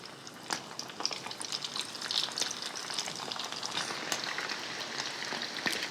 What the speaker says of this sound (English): I'm gonna keep frying.